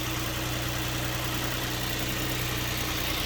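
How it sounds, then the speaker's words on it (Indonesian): Used car's engine idling smoothly at a dealer lot, a steady low even hum and rumble with no breaks, close and moderately loud. "Ini mesinnya udah nyala, halus banget untuk mesinnya"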